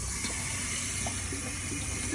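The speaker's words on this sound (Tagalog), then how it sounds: "Dagdagan pa natin ng tubig." Water poured into a cooking pot of Filipino humba braise with dried lily flowers or banana blossom, a steady close pouring and splashing wash that holds evenly for a couple of seconds with no talk.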